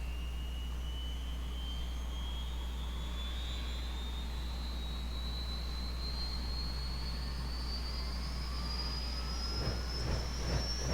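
Simulated Bell UH-1 Huey turbine spinning up during cold start in X-Plane 11, a steady rising whine climbing in pitch over a constant low rumble, loud and close with no talk.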